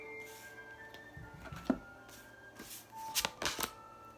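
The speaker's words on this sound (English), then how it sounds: "So it's creates a little bit more of a challenge when shuffling." Large tarot cards are shuffled in a few quiet bursts of riffling and slapping, faint and close, with pauses between against a low background hum.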